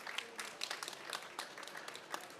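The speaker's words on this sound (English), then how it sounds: "Give him a round of applause" Faint, distant audience applause, a steady patter of many hands clapping with no voices.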